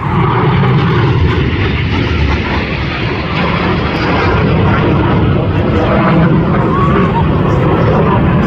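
Red Arrows jet aircraft flying a display at an air festival, a loud continuous roar of engines filling the air alongside crowd noise and a commentator's voice.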